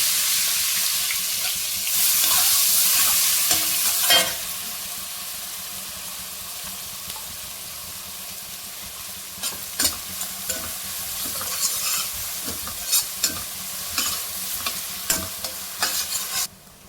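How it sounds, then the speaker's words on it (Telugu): Chopped onions fry in a pan with cardamom, cloves and mace, stirred with scraping clicks over a steady sizzle; a louder burst of sizzling and splashing early on, then intermittent sharp utensil knocks near the end, no talking. "ఈ ఉల్లిపాయ ఎంత మంచిగా వేగింది కదా."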